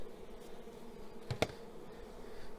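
Honeybees buzz around a hive, a soft low drone close by, with a couple of brief sharp knocks partway through and no talk.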